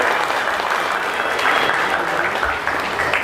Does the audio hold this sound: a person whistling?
no